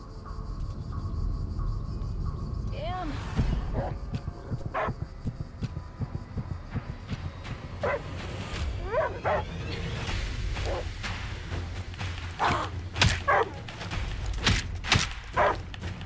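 A dog in the video game Die Young barks in scattered, sharp bursts against a night backdrop of chirping crickets and insects, the barks rising and falling in loudness.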